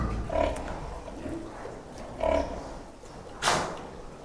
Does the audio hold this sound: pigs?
yes